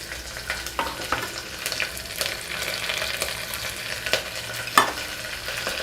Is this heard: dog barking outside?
no